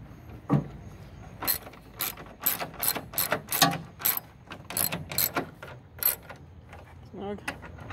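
Screws securing a headlight mount to thin sheet metal on a 2008 Ford E-350 are snugged down in quick ratcheting bursts, a dozen or so close, sharp clicks in uneven rhythm.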